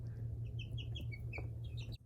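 Chickens clucking and making short calls inside a homestead coop, several soft overlapping clucks over a steady low hum, faint and fairly close.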